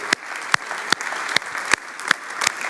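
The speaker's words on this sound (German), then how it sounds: "Geben wir ihnen nochmal einen riesigen Applaus." A school class receives steady applause from an audience, a dense wash of clapping with distinct louder claps standing out at a fairly even pace, fairly close and without voices.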